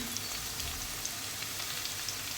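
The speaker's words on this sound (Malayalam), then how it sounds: "ഒപ്പം കടുക് പൊട്ട് കടുക് പൊട്ടട്ടെ" Mustard seeds splutter and crackle in hot oil for a South Indian okra theeyal, a steady dense sizzle with small pops scattered throughout, close and moderately quiet, with no voices.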